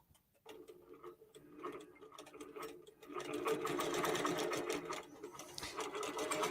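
A QBOT V3 Pro quilting machine starts stitching with needle down and up. Rhythmic ticking stitches build into a fuller, steady mechanical whir, close and fairly quiet, with no talk.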